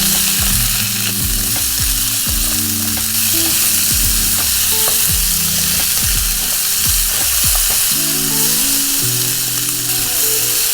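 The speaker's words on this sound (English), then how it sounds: "add the onions and sliced garlic. Fry for a few more minutes" Onions and sliced garlic fry in a pan, sizzling steadily while a utensil stirs and scrapes in repeated strokes, close and continuous, with no voices.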